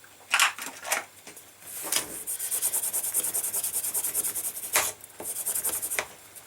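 A burnishing tool rubs back and forth along the trimmed edges of a leather belt keeper, making close, rhythmic dry scraping strokes in short bursts and then a steadier run of quick strokes.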